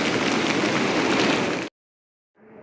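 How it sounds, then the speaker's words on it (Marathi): A steady, dense hiss of rain that cuts off abruptly, followed by silence and then a fainter wash of noise returning. "पाऊस"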